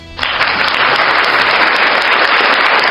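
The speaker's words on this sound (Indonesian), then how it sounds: "Tepuk tangan untuk Pak Prabowo." Applause for Prabowo at an Indonesian speaking event, a dense burst of clapping that starts abruptly and holds steady and loud from a crowd, with no talk over it.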